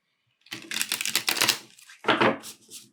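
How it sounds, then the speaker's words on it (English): Modern Witch tarot deck being shuffled quickly by hand, a run of crisp riffling card flutters followed by a second shorter burst, close and fairly loud. "We also have the Modern Witch Tarot deck. Just going to shuffle it real fast."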